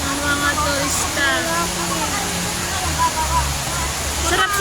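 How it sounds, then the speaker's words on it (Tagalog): Water from the large indoor waterfall at Jewel, Singapore pours down in a steady broadband rush, with people talking over it and crowd chatter around. "Ito po yung sinasabi nilang jewel na bubuhos ng tubig."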